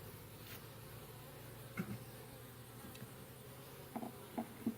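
Honey bees buzz inside an opened hive during a nuc split; a soft, steady drone hums throughout, with a few faint clicks and light taps near the end as the hive is handled.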